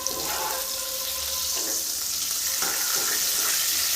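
Mixed vegetables frying lightly in a pan for a vegetarian mixed-veg dish, a steady broadband sizzle with a few brief stirring scrapes, close and continuous with no talking.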